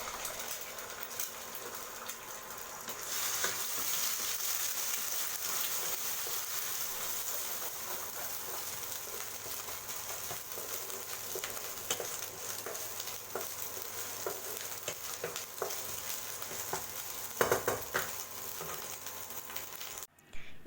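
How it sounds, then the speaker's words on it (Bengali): Vegetables and egg fry in a wok with a loud, steady sizzle and crackle, with occasional stirring scrapes, running close and continuous with no talk. "এই যে আমি এখন সবজিগুলো এবং ডিমটা ভেজে তুলে রেখেছি"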